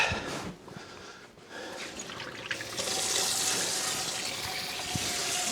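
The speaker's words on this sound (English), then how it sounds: "since this was hot, I'm going to rinse this out." Running water from a tap splashes into a hot cast iron skillet in a sink, starting softly and then building into a steady rushing hiss, close and without talk.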